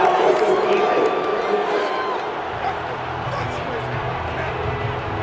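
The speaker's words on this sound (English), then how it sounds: "Well, this crowd does not like that call." Stadium crowd in Madden 22 during a Lions versus Colts game roars and boos steadily after a penalty call, a broad distant wash of noise, with a voice speaking over it.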